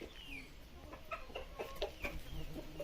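A sick hen that is refusing feed clucks close by, a series of short, soft, irregular clucks and squawks over a faint background.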